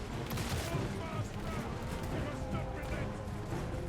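Rapid overlapping pistol gunfire in the video game Total War: Warhammer 3, a dense steady crackle of shots throughout under a continuous battle din, with someone talking over it.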